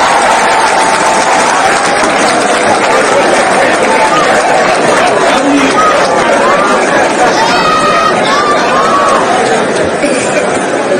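An audience at a community tribute gathering for a patriarch applauds, a dense, steady wash of clapping mixed with crowd chatter and voices that carries on for the whole stretch without a break.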